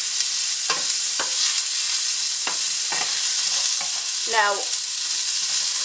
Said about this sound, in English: Now we'll add the onions